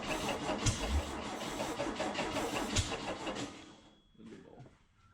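A junkyard Volkswagen Beetle engine cranks and fires, a loud continuous rhythmic chugging close by that cuts off after about four seconds, leaving faint clatter.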